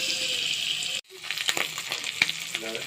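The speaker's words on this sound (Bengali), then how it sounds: "এটাকে এখন ভালো করে ভেজে নেব।" Egg pieces frying in oil in a wok with turmeric and salt, giving a steady close sizzle with clinking stir strokes; the sizzle cuts out briefly, then resumes with scattered scraping and crackling.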